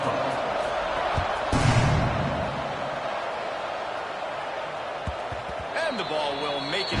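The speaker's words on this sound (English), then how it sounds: "this crowd is buzzing after that last score" A stadium crowd buzzes in College Football 26, a steady broad wash of distant cheering and murmur with a brief louder swell, while a commentator's voice talks over it.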